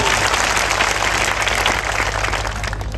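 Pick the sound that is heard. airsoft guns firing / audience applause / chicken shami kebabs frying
audience applause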